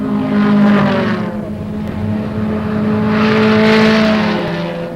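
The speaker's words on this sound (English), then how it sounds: "A snapped fan belt finally broke up the 150-mile-an-hour duel as Sharp pulled away" Race cars dueling at about 150 miles per hour in an E-production race, loud sustained engine roar with droning harmonics rising and falling as they pass, close and without talk.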